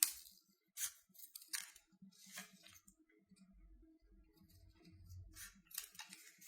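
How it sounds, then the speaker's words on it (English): Scissors snip in short, crisp bursts, rounding the corners of paper for origami bookmarks, several quiet cuts spaced irregularly, close up with faint rustling between them. "these hard corners, we are gonna round them out with our scissors"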